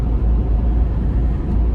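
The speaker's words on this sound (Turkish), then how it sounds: "Of arabanın nasıl geçtiğini gördünüz mü?" A car passes by on a wet road in the rain, a loud, steady low rumble with hissing spray throughout, no voices.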